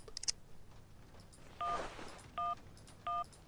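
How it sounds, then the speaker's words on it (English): A cell phone dials in the Syberia adventure game, with several short electronic keypad tones spaced about a second apart, quiet over a soft hiss and without talk. "So I think I will call Marson at the moment"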